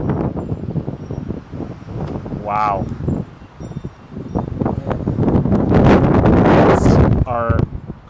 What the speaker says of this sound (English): Winds are crazy right now. You get these little bursts of probably 50, 60, maybe 70 mile an hour gusts.